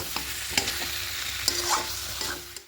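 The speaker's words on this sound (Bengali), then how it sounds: "এবার ভেজে রাখা আলুগুলো দিয়ে দেব সব কিছু এবার একসঙ্গে খুব ভালো করে মিশিয়ে নেব মিশিয়ে নিয়ে আর একটু কষে নেব" Fried potatoes with spices are stir-fried in a pan for aloo dum with peas, a continuous close sizzle broken by repeated scraping strokes and light taps of the spoon, with no talking.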